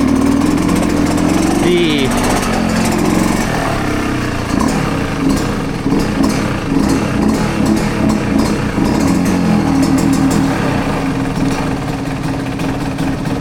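Yamaha YZ125X two-stroke dirt bike with a Stic Super Torque X2 carburetor and high-octane head, blipped briefly and then settling into a steady, buzzing, slightly uneven idle, loud and close.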